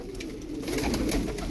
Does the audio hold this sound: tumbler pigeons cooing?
yes